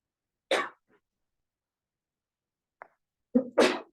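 A sneeze bursts out in a classroom, a short loud snort of breath near the start, followed by a faint catch and then a second, louder double-burst sneeze close by near the end, with quiet between.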